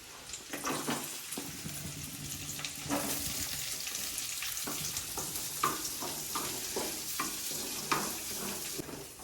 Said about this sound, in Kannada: ಈಗ ಗಾರ್ಲಿಕ್ ಹಾಕಿದ್ದೀನಿ. ಸ್ವಲ್ಪ ಬ್ರೌನ್ ಕಲರ್ ಬರ್ತೈತೆ